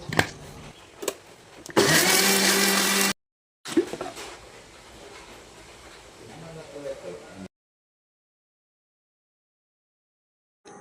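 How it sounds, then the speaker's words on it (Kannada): A mixer grinder whirs loudly for about a second and a half as it grinds masala with a little water, among short bursts, clatter and speech, then falls silent. "ಈಗ ಮಸಾಲೆಯನ್ನು ಕಡಿಯುವ."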